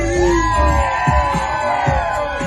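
A crowd at a DC event cheers, whoops and screams together in a sustained, dense roar, with occasional thumping beats underneath.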